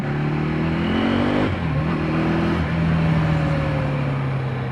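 The single-cylinder engine of a KTM Duke 390 R motorcycle revs close and loud, its pitch rising and then dropping back to a steady idle-like drone, with no voices.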